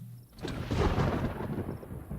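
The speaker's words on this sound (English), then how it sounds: "Whoa. Thunder." Thunder booms in the video game DayZ, a single close rumbling roll that swells after a quarter second and holds loud and deep to the end, with no talking over it.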